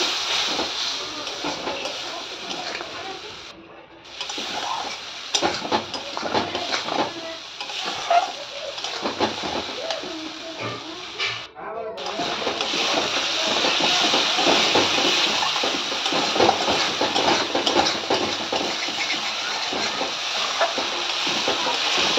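Mixed spice paste frying in oil in a wok for Gobindobhog rice khichuri, a loud, dense hiss that cuts out briefly twice, then continues steady and strong.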